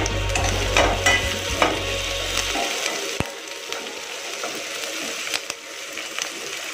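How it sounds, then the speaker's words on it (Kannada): Onion with ginger-garlic paste frying in a pan for a drumstick curry, giving a continuous close sizzle with scattered spatula scrapes and a few sharp clinks, plus a low machine hum that cuts out partway. "ಇದು ಈರುಳ್ಳಿ ಎಲ್ಲ ನೀಟಾಗಿ ಫ್ರೈ ಆದಮೇಲೆ ಟೊಮೆಟೊ ಹಾಕೋಣ"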